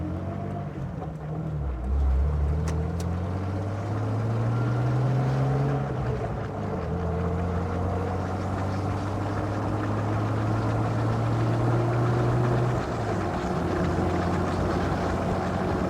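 A 2000 Jeep Wrangler TJ drives in second gear, its engine droning and straining with rising and falling pitch as it revs steadily, heard from inside with wind noise.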